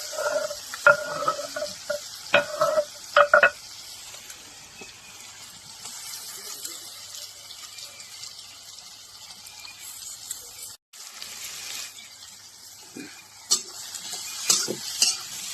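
Red chillies and garlic sizzle and fry in oil with cumin and fennel seeds, the crackle steady throughout, with a few stirring clinks and scrapes of a spoon against the pan near the start and end.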